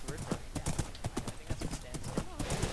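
Horse hooves in Minecraft clip-clop in a quick, even rhythm, close and clear, with a horse's whinny faintly mixed in.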